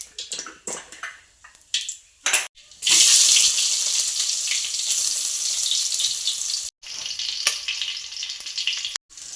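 Spices for tempering hit hot oil in a pan with a sudden loud sizzle, then keep frying in a steady crackling hiss, briefly interrupted, while faint kitchen clatter comes before and a tap-like splash runs under it.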